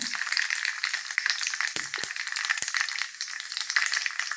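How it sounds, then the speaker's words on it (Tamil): Mustard seeds, dried chillies and asafoetida fry in sesame oil for a tomato thokku. The oil gives a steady, close sizzle with scattered pops and crackles throughout. "கடுகு போட்டுடலாம். ஒரு 3 மிளகா போட்டுடலாம். பெருங்காயத்தூள் போட்டுடலாங்க."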